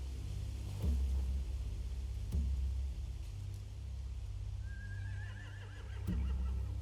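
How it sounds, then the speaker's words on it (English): A video game horse in The Walking Dead: The Final Season whinnies with a rising, wavering call near the end, over a steady low rumble with a few dull thumps. "They have horses."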